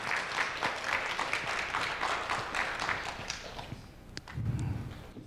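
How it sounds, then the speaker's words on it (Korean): Audience applause welcoming a professor back to the stage at a youth forum awards ceremony, moderate steady clapping from a seated crowd that thins toward the end, with light footsteps. "큰 박수로 맞이해 주시죠."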